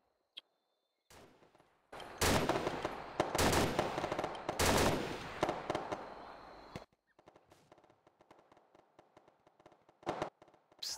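Gunfire erupts around a wooded area during night jungle operations in ARMA 2 on Lingor, with dense automatic bursts rattling continuously for several seconds before thinning into scattered pops and one final short burst.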